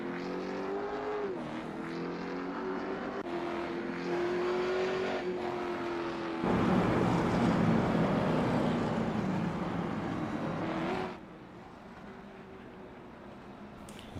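Late model race cars running a heat race at Nashville Fairgrounds, engines droning and revving with shifting pitch, swelling into a loud, close pass before dropping back to a lower hum.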